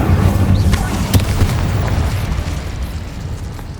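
An Incendio fire spell blasting in the video game Hogwarts Legacy: a loud, close burst with a sharp pop that rolls into a fading rumbling roar over a few seconds.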